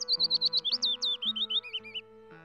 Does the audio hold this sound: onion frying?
no